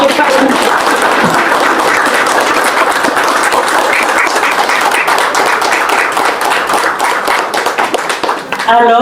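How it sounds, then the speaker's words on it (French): Close, loud applause from guests at a press cocktail at the Haitian embassy honoring an artist, brisk continuous clapping that fades near the end as a voice starts speaking. "je vous demanderai même encore de l'applaudir"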